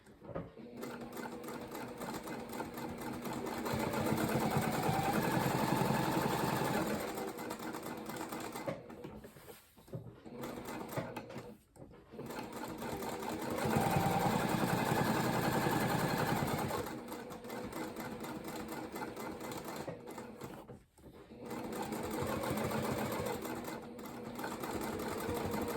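A domestic sewing machine stitches the seams of a reusable cloth napkin in several steady bursts of close, fairly loud mechanical whirring, separated by short pauses.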